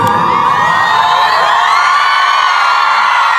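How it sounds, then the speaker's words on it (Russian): A large crowd of fans in Yakutia cheers loudly and continuously, with shrill shouts and whoops from women and children up close, and applause blended into the roar. "Аплодисменты!"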